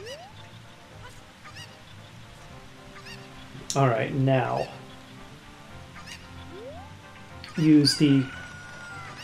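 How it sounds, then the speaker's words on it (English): A cucco chicken in Zelda Ocarina of Time squawks in two loud, frantic bursts of clucking over the game's music at Zora's River, while a player talks. "I'm going to leave you alone now, cuckoo. You go be hysterical wherever you want."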